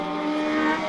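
Race car at the Katukurunda circuit during an SLH1600 race, a steady high-pitched engine drone held close and fairly loud for under a second.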